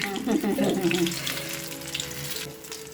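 Gundu bajji, brinjal dipped in gram-flour batter, frying in oil heated on medium flame, giving a dense bubbling sizzle that holds steady throughout, with faint tonal sounds in the background.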